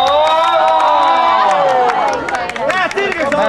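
Crowd cheering and clapping at a kiiking swing competition in Haapsalu, Estonia in 2005: a dense, lively outdoor crowd with shouts and applause, loud and continuous, plus scattered voices.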